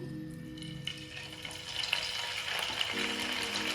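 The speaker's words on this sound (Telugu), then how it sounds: "మనం పన్నీర్ ముక్కలు వేసుకుందాము" Paneer pieces fry in hot oil in a pan, a steady crackling sizzle that grows busier after a second or so, with no talking.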